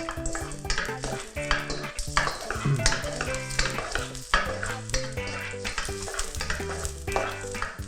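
Garlic and onion stir-fried in a pan make a busy sizzle with frequent scraping and clattering strokes. Other tonal sound sits close underneath, and no one speaks.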